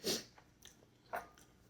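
Quiet close-up crunching as dried fruit meat is bitten and chewed, two or three crisp bites with soft breathing between them.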